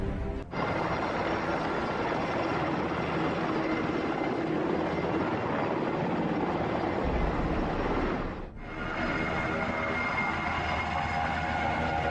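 Black Hawk military helicopters roaring overhead during a drill in downtown Miami, a loud continuous rotor drone with a brief dip near the end.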